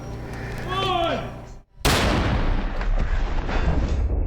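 A small explosive charge in high-speed ballistic testing goes off as one sudden loud boom, followed by a long rough roar of debris and wash. A voice is heard just before.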